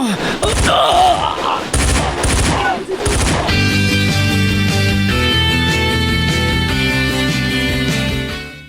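Gunfire in a firefight bursts out in rapid, loud volleys and scattered shots, with shouting voices mixed in at first, then giving way to a sustained dramatic musical swell.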